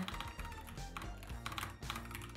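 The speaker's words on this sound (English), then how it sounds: "Fuck my typing!" Fast typing on a computer keyboard, a quick irregular run of close clicks and taps, quiet and alone without talking.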